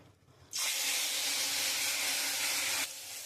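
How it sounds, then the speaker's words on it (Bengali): Small fish frying in hot oil in a wok, a loud steady hiss bursting in abruptly, holding evenly for over two seconds, then cutting off sharply. "আমি এরকম করে সব মাছগুলো লাল লাল করে আমি একটু ভেজে তুলে নেব"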